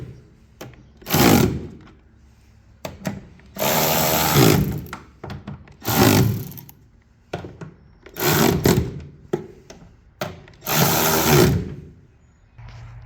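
Cordless Milwaukee battery ratchet driving bolts into plastic parts on classic John Deere planting equipment, heard as several loud whirring bursts of a second or two each, separated by short quiet gaps and clicks.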